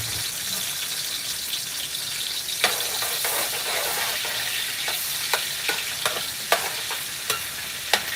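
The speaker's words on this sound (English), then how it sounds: "I'm gonna put in my onions right in here. You hear that sound?" Steady broadband sizzle of onions frying in a hot pan for Liberian-style red kidney beans, with occasional sharp crackles and pops standing out near and clear, no talking.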